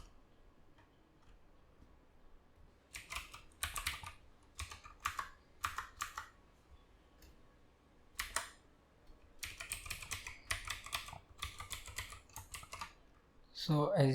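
Typing a username and password on a computer keyboard: irregular bursts of crisp, close key clicks separated by short pauses, ending with a louder cluster of keystrokes.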